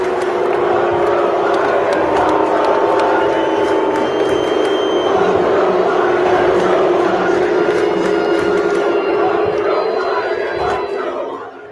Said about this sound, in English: People are chanting fuck Joe Biden